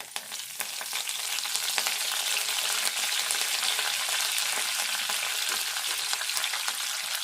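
Dried red chillies and other tempering ingredients sizzle and crackle loudly in hot oil for a dal with ridge gourd, a dense continuous frying hiss with occasional stirring, no voices.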